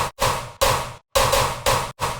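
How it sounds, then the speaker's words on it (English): Dubstep synth passed through a frequency shifter set to 24 Hz: bright, gritty sustained bursts in a choppy pattern of about five hits separated by short silences, loud and close with nothing else over it. "So the first frequency shifter I have is set on 24 Hertz"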